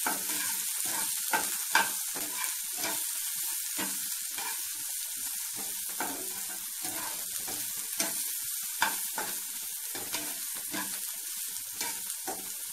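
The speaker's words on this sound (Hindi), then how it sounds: "प्याज अदरक लहसुन को 2 मिनट भूनने का बाद" Onion, ginger and garlic frying in a pan on a low flame, a steady close sizzle broken by repeated sharp crackles and stirring scrapes, with no talking.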